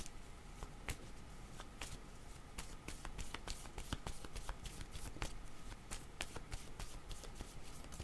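A deck of cards being shuffled to draw one, soft papery riffles with scattered sharp snaps, quiet and close, running steadily throughout.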